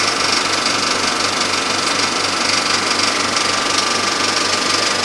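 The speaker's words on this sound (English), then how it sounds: "You're hearing that projector." A film projector runs continuously in a cinema projection setup, a steady mechanical whir and rattle with a fine clattering texture, loud and close, unbroken for the whole stretch with no speech.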